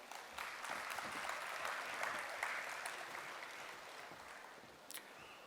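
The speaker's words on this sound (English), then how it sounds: "Please join me in giving them a warm round of applause" Applause from a conference audience at an international management conclave, a steady mass of clapping that continues evenly throughout and fades slightly toward the end.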